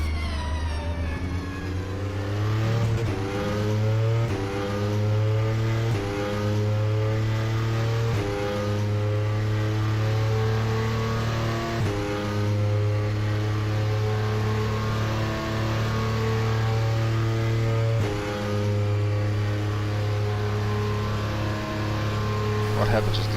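An Audi R18 race car engine in a Le Mans racing game holds a loud, steady high drone, with a series of brief dips as gears shift. A voice talks over it throughout.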